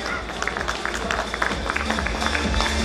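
An event audience at the Udaan event applauds steadily with dense clapping and crowd noise throughout, loud and continuous.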